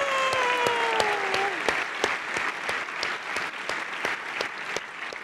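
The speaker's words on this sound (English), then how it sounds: "Round of applause." Conference audience applauding award winners at a closing ceremony, a steady wash of many hands with a few sharp, distinct claps near the front, while a voice speaks over the start.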